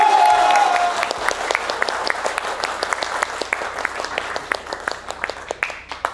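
A small crowd claps, loud at first then thinning into scattered, uneven claps, with a brief voice audible at the start.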